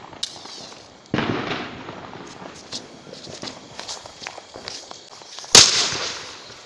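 Diwali firecrackers lit and bursting outdoors: two sharp, loud bangs several seconds apart, each trailing off in crackle, with faint background activity between them.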